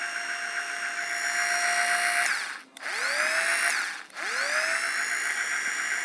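An electric drill machine powered by a single solar panel whines steadily at high speed, stops twice briefly and spins back up each time with a rising pitch, loud and close with no talk.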